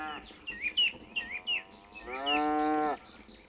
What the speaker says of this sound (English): She looked up as Jack walked towards her and mooed a greeting.